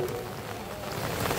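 Rain falls steadily on a football pitch during a cup match, a soft continuous hiss of drops at low level.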